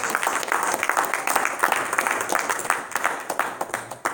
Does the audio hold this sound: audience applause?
yes